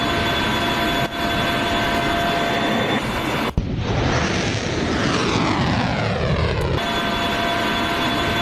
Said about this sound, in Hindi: ड्रोन देख रहे हैं आप कैसे इस वक्त लगातार लॉन्च कर रहा है हिजबुल्लाह